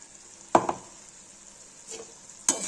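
Quiet sizzling of peas and potatoes in a pan, with green coriander and green chilli, and a few brief scraping clatters of stirring, spaced apart against a soft background hiss.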